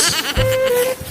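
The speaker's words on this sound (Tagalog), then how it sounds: "Dami palang kambing dito, oh." Goats bleat on a hillside farm trail during rain, one pregnant and one with a broken horn, with a single drawn-out, wavering bleat close by and people talking around it.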